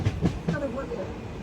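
Konkan Railway train rolling along the tracks, a brief rumble with faint rhythmic clatter, heard from on board under low background voices.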